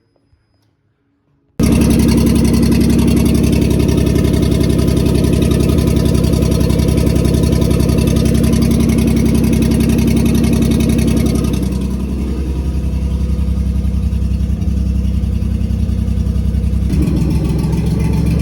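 A Pontiac Fiero engine hunting for idle, running steadily and loudly up close, its pitch and tone shifting partway through as the revs wander.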